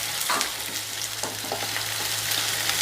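Two large cut onions sizzle in hot oil, a steady close frying hiss with scattered crackles and pops, and no voices.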